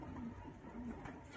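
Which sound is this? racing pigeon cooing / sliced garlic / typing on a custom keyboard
racing pigeon cooing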